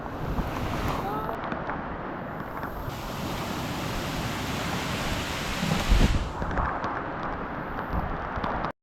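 Strong wind roars continuously with heavy rain on a seashore during shore fishing, a dense rushing noise buffeting the microphone, loud and unbroken throughout.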